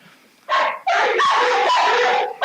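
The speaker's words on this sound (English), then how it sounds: "Like I said, loud dogs." Loud, close dog barks come in a few harsh, drawn-out bursts, one after another.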